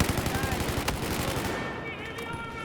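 Rapid automatic gunfire in Battlefield 4 rattles out in a dense burst of sharp shots. It stops partway through and a ringing tail of softer sounds follows.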